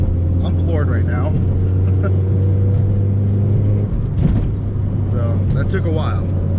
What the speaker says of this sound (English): Like fourth gear, 2400 RPMs. It's I'm floored right now.